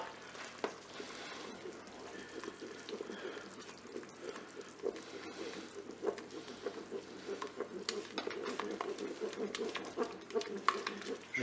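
Chicken in mustard sauce being stirred inside a Cookeo multicooker after two spoonfuls of mustard go in, a soft continuous scraping and swirling with faint bubbling, steady and close throughout.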